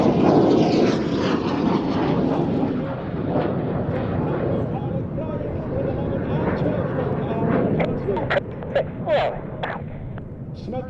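Red Arrows display jets in formation at the Duxford Battle of Britain airshow, a broad loud jet roar sustained throughout with a commentator talking over it.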